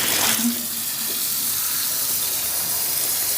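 Strawberries are washed under a steady tap, water running and splashing loudly and continuously into a sink throughout.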